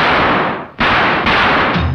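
Loud crackling bursts from firecrackers set off in a 1959 Hindi film scene, a dense noisy roar that dips briefly, then jumps back with fresh bursts and keeps crackling to the end.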